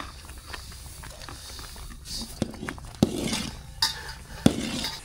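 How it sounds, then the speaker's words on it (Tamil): Coconut milk kesari is stirred slowly in a pan, giving soft scraping and sloshing with a few sharp metallic clinks of the spoon against the rim. "மெதுவாக மெதுவாக கிண்டுக்கு."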